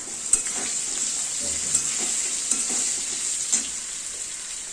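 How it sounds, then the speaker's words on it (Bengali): Steady sizzling of vegetables frying with turmeric in a pan, with occasional soft clicks of stirring against the pan; continuous and moderately loud, no voices. "হলুদ দিয়ে আবার হালকা একটু ভেজে নেবো"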